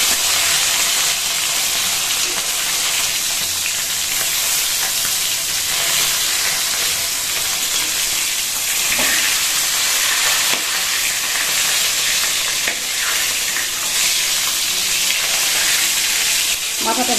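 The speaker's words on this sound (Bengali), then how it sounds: "মাথাটাকে ভালো মতন ভেজে নিলাম।" A hilsa fish head fries in hot oil, giving a loud, steady, hissing sizzle that runs unbroken from start to finish with no voices.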